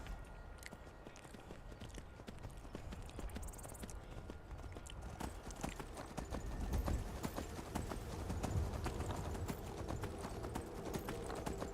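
Rhythmic clip-clop of horse hooves at a steady trot in the video game Skyrim, continuous and fairly close, over a dull rumbling background.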